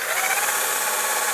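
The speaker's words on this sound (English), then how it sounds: "let's go ahead and drill away." A power drill fitted with a countersink bit bores a pilot hole into wood for a bookcase, a steady, close whir that runs without a break.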